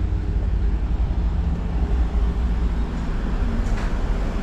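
Buses and traffic rumbling along Avenida da Barra by Sai Van Lake in Macau, a steady low drone of engines heard from the street with no clear passes standing out.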